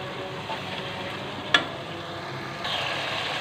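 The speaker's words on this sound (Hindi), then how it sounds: "अब इसे हम 5 से 10 मिनट भूनेंगे" Meat frying with spices and red chilies in a pan, giving a steady close sizzle broken by one sharp utensil tap, then a louder hiss near the end.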